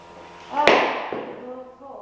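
A sharp single clatter of something hitting a hard floor, followed by a softer knock as it settles, with faint room noise after.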